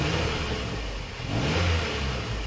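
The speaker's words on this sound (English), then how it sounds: "Would a release bearing sound that bad?" A Mini One R50/R52 Tritec engine running with a rough, grinding whir underneath from a worn clutch release bearing, the noise swelling slightly midway, no talking.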